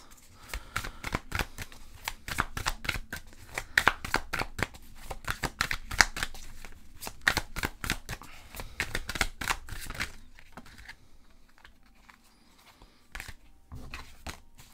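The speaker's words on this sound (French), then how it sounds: "Les cartes glissent et sortent à paquet" Tarot cards shuffled in dense, rapid riffles and slides for about ten seconds, close and crisp, then tapering off into a few sparse flicks near the end.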